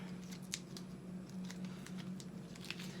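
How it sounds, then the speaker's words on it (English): Scissors snip through archery bow grip tape in a quiet room, several crisp, close cuts spaced irregularly over a few seconds. "You just take your pair of scissors, make sure not to cut your cables or your string."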